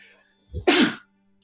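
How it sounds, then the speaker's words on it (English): A single sharp sneeze, close and loud, with a brief intake before it, then quiet. "Excuse me, I'm gonna sneeze."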